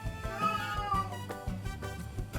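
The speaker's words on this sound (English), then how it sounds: "The cat agrees." A house cat meows several times in a row, close and clear, with drawn-out, slightly strained calls during a quiet indoor rum tasting.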